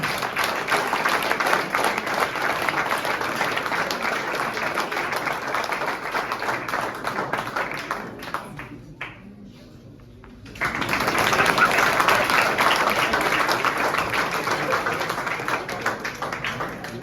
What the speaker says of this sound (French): Pierre-Alexandre Cordier, qu'on applaudit très fort